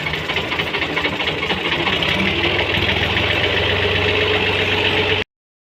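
A Dabang tractor engine idling after its radiator is filled with coolant, a steady close-up chugging rumble with a rapid knocking pulse, running alone until it cuts off abruptly.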